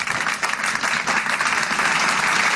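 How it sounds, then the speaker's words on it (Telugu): Many children clapping together during an online Zoom singing class, a dense, continuous patter of applause close to the microphone for the whole stretch. "అందరు క్లాప్స్ గట్టి."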